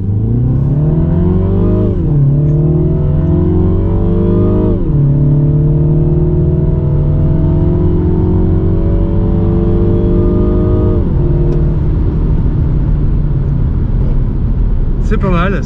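A 2020 Mini Clubman Cooper S with a 192 hp 2.0-litre four-cylinder revs hard in sport mode, the engine note climbing repeatedly through rising pitch sweeps with gear-change dips, loud and close throughout.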